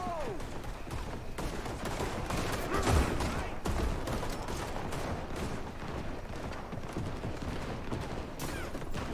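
Gunfire rings out in a Red Dead Redemption II shootout, a steady dense fusillade of overlapping shots with a few louder bursts, continuous throughout with faint voices mixed under it.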